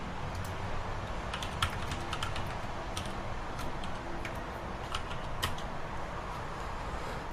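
Rapid clicking of a computer keyboard as a command is typed, a steady run of close, crisp keystrokes over faint room noise.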